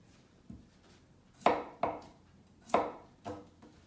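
A knife slicing vegetables on a cutting board while making an eggplant dish, giving five crisp, separate chops spaced about half a second apart, close and fairly quiet, with no talking.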